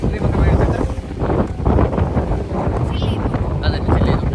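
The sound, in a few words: strong wind at the coast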